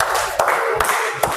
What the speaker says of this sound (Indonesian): Berikan tepuk segi 4 2 kali